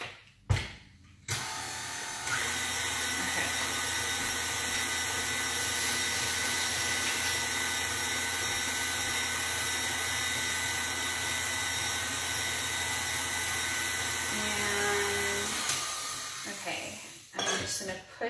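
An electric mixer beating keto, gluten-free strawberry cake batter, a loud steady whirring drone for about fifteen seconds, with clinks at the start and end as it is switched on and off.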